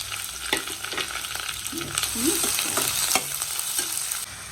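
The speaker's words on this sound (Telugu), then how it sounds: "కొంచెం ఉల్లిపాయల్ని బాగా వేయించుకుంటే బాగుంటుంది" Onions, green chilies, curry leaves and cashews frying in a pan, a dense steady sizzle with occasional spoon scrapes and soft knocks as they are stirred, close and fairly loud throughout, no speech.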